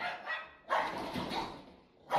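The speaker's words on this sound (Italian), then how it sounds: "So my dog does this weird thing whenever he gets angry." An angry dog barks and growls in three loud, harsh bursts close by, with short pauses between them and no talking.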